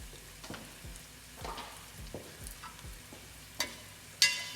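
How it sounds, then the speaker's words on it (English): Potatoes sizzling and frying in oil in a pan for spicy Lebanese batata harra, a steady crackling hiss with stirring scrapes and a few sharper clinks of a utensil against the pan. "Just give that a fry now with it."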